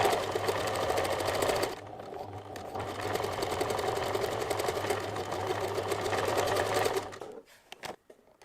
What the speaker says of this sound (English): I'm going to sew at about 5 millimeters from the raw edges